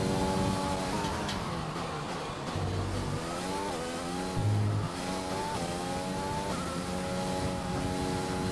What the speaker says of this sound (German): ein paar Autos sind schon draußen, aber noch nicht alle